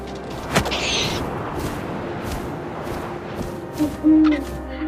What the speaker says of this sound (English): And suddenly, I was an owl.